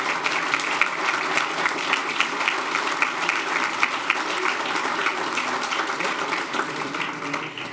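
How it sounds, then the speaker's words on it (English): An audience gives steady, sustained applause at a school board meeting honoring state champion boys soccer players, with dense clapping throughout and no voices. "Let's give them all a huge round of applause to our state champions,"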